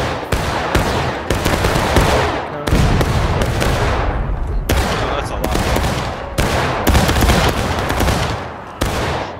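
Volley after volley of rifle fire in War of Rights, dense overlapping musket-style shots booming close and loud in rapid irregular bursts across a battle line, with no talk over them.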